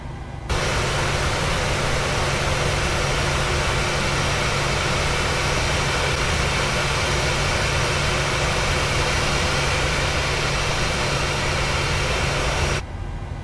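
A loud, steady jet engine roar from a PMDG 737 engine start in a flight simulator, humming evenly throughout, cutting in abruptly at the start and stopping just as suddenly at the end.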